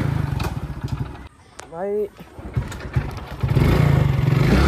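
A motorcycle in the Free Fire video game rumbles and revs with clattering engine pulses, briefly cut by a rising whistle-like effect, while someone talks over it.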